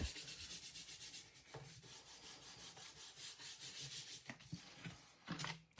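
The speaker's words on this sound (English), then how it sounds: "So now I'm going to turn that over and give it a good rub." A glued craft piece rubbed firmly by hand, a soft rhythmic scratchy rubbing repeating steadily back and forth, close and quiet with no talking.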